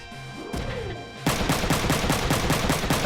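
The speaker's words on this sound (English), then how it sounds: "If I can just shoot him, I won't bother with the shield." Rapid automatic gunfire while shooting an enemy in the video game Front Mission 3. A short sweep comes first, then loud repeated shots in an even rhythm until the end.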